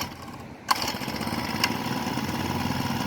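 A Honda pole chainsaw's small engine catches after a pull and settles into a steady, buzzing idle with a brief rev bump, heard up close and fairly loud without talk.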